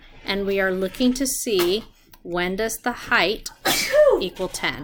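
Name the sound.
sneeze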